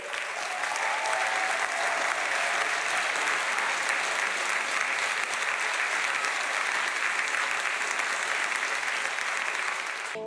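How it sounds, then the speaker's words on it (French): Warm, sustained applause from a theatre audience at a tribute event, dense and even clapping at moderate loudness that holds steady without a break for the full stretch. "Merci pour ces applaudissements très chaleureux."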